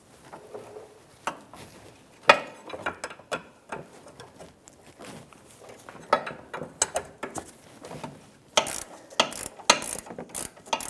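Wrench work on the sway bar link nut of a 2009-2014 Nissan Maxima front suspension, with 19mm and 18mm wrenches: a run of sharp metallic clicks and ratcheting ticks, irregular and close, with louder bursts near the end.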